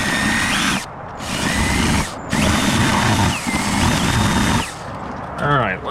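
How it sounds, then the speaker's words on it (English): A power drill bores out the plastic wheel well liner of a 2025 Ram 1500 in several loud, close whining bursts separated by short pauses. A faint ratcheting click follows at the end. "I'm going to drill out the liner just a little bit to give me a little bit of leeway here"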